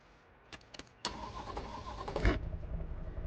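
An old Cadillac car engine starting in a video game: a few clicks, then the starter cranks and the engine catches, settling into a mid-pitched idle, close and alone.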